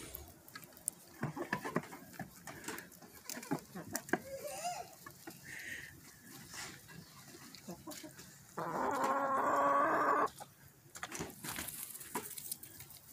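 Chickens cluck and murmur nearby in short scattered calls, with rustling and a louder squawking burst partway through.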